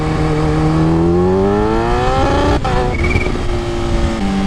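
Kawasaki Ninja H2 motorcycle accelerating at quarter throttle, a loud, close engine note rising steadily in pitch before a brief break, then holding a steady high drone.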